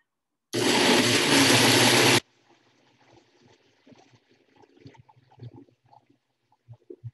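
A blender grinds water-soaked paper pulp for recycling in one loud, continuous whir lasting under two seconds, followed by quiet dripping, trickling and soft clatter as it stops.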